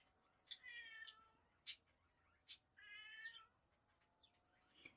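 A cat meows indoors in a room, with several short calls and a couple of longer drawn-out wails spaced over a few seconds, faint and a little distant, with no voices.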